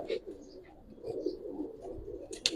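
Giribaz tumbler pigeons at a breeder's loft coo steadily, a close, continuous low murmur of overlapping calls with a few brighter chirps near the end.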